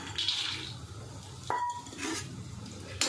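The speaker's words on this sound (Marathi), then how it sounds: "आता ह्याच तेलामध्ये आपण शेंगदाणे भाजून घेऊया" Peanuts roasting in oil in a pan for curry leaf chutney: a soft sizzle under scraping and clinking of a spatula against the metal, with a sharp ring midway.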